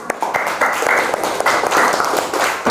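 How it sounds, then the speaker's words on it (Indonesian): Students in an Indonesian classroom clap together for a few seconds, a brisk, fairly loud burst of applause with some faint voices mixed in. "Tepuk tangannya."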